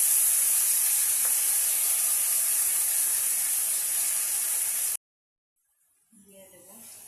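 Bay leaf, nigella seeds and cumin sizzling in hot oil for a potato curry, a loud, steady hiss for about five seconds that stops abruptly, followed by quiet talking.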